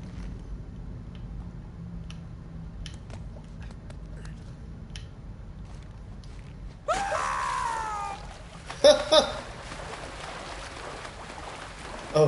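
A wimpy scream from a character in the video game Uncharted: Drake's Fortune, a short wavering cry that rises suddenly out of quiet game ambience, followed by a couple of brief louder bursts.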